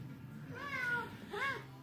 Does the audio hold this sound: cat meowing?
yes